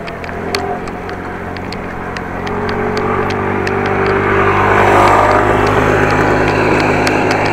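A motor scooter grows louder as it approaches and passes in a bike lane on a freezing Dutch winter day, its buzz rising over steady road noise, with faint rhythmic ticking throughout.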